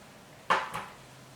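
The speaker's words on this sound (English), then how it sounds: "Now we'll add in our rice." Cooked rice tipped into a pan of gallo pinto, a brief scraping clatter of utensil against the pan followed by a second lighter knock, then quiet.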